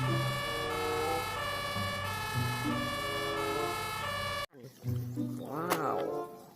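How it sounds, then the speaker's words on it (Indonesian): A toy ambulance sounds a bright electronic siren made of layered tones that repeat steadily for several seconds. The siren then cuts off, and a short, rising and falling voice-like sound follows. "Yang ini mobil ambulan."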